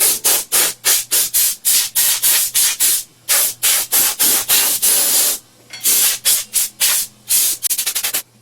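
Compressed air blows dust off a home heater in loud, close bursts, a rapid series of hissing blasts separated by short pauses, with a longer gap midway and quick stuttering puffs at the end.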